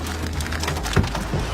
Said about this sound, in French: Le déluge de grêle est filmé par des habitants d'Aubenas en Ardèche, surpris par l'intensité de l'orage.